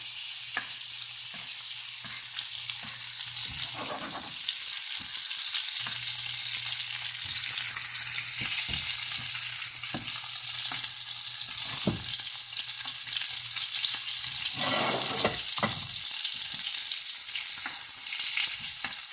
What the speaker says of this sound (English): you want to tilt your skillet and baste the fish